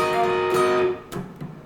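An electric guitar plays a short phrase from a riff with upstrokes and slides, sustained notes fading before a couple of quieter picked notes, alone and close.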